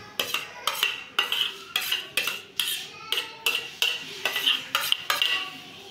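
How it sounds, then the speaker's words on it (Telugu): A spoon stirs tempering into a raw vegetable mixture in a metal bowl, making repeated sharp scraping clinks in an even rhythm, close and alone. "మనము ఇలా మిక్స్ ఇలా స్పూన్తో బాగా మనం కలపాలండి"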